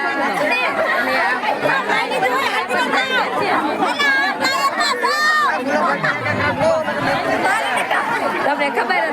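A dense crowd jostles to grab 56 bhog prasad, a continuous loud hubbub of many overlapping voices chattering and calling close by, with no letup across the whole stretch.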